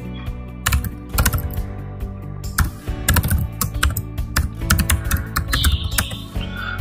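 Someone types an email user ID on a computer keyboard while filling in an online petition form, a steady run of close, crisp key clicks with short pauses and no talking.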